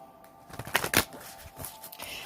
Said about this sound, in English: Let me shuffle a couple of times.